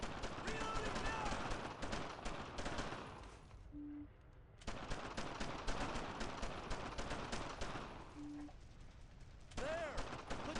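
Sustained gunfire in the World War II game Brothers in Arms: Earned in Blood comes as dense, rapid machine-gun and rifle bursts. The shooting stops twice, briefly, and soldiers shout orders over it.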